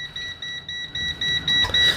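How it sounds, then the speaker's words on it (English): A MASTFUYI FY17C cheap multimeter sounds its high voltage alarm at 1,000 volts, a rapid string of short high-pitched electronic beeps pulsing steadily and growing slightly louder, with faint rustling at the end. "And we have that high voltage alarm."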